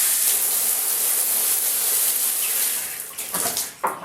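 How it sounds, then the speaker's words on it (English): A tap turned back on after changing its washer gushes water in a loud, continuous hiss, then sputters and splashes unevenly toward the end as air clears the line. "Turn the water back on now."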